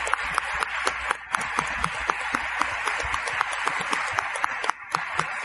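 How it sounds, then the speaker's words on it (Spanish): Crowd applause welcoming candidates at a political forum in Guatemala: steady, dense clapping from an audience, sustained throughout with no speech over it. "Les pido que por favor le demos la bienvenida a los candidatos con un aplauso"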